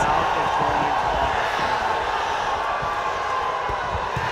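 Dense, steady roar of a large arena crowd at a live MMA fight night, loud and continuous throughout, with a commentator's voice talking over the noise.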